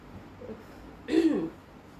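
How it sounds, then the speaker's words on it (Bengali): A woman coughs once, a short harsh burst of about half a second. She has an irritated, tickly throat. The cough is close and stands alone against quiet room tone. "কাশি মানে কাশি আর যাবে না সত্যি"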